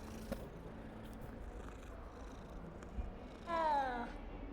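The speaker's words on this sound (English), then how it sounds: "The cat sound is so weird." A cat in the Hogwarts Legacy video game gives a soft purr under a low game-ambience bed, then a single short rising meow near the end, fairly quiet.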